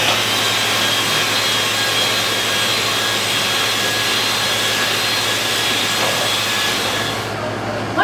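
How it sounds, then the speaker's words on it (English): Electric hand beaters run steadily and loud through a bowl of eggs, sugar and lemon juice, a continuous whirring drone with no pauses for the whole stretch, easing off briefly near the end. "Continue beating until it's thoroughly combined."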